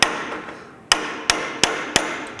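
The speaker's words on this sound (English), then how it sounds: "I'll just be kind of tapping the bearing" A piece of Delrin taps against a bearing to work a gear and brass hex assembly loose: four sharp, bright knocks arriving in an uneven rhythm over a quiet background, close to the microphone.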